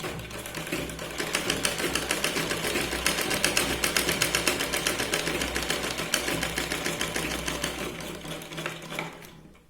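Sewing machine stitching a blouse lining, a fast steady mechanical chatter running loud and close for most of the stretch before stopping abruptly at the end.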